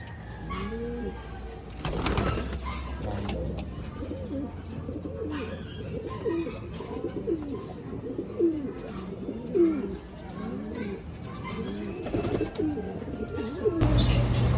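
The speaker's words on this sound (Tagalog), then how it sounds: "Mula sa dalawang pares na kalapate, ito na sila ngayon." Pigeons coo continuously in a breeding loft, a layered chorus of soft throaty rolling calls from several birds at close range, with a couple of brief louder thumps or flutters near the start and end.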